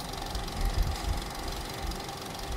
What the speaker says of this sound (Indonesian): kita hidupin proyektornya